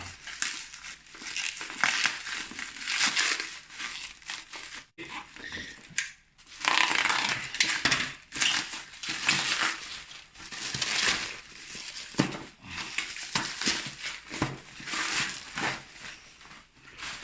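Packaging of a Zastone A28 radio is torn open and handled, producing loud, close crinkling and crushing of wrapping that continues in irregular bursts with short pauses and no voices.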